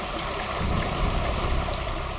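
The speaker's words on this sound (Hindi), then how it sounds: "सामने देखो, वाटरफॉल कितना सुंदर है ना" Rushing water from a waterfall, a steady broadband roar that holds evenly through the whole stretch with no voices over it.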